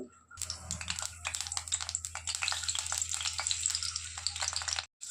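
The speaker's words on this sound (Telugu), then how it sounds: "నూనె మరిగిన తర్వాత ముక్కలు ఒక్కొక్కటి వేసుకుందాము" Paneer pieces fry in hot oil, a dense crackling sizzle with rapid sputtering pops that keeps up steadily and close throughout, broken only by a short gap near the end.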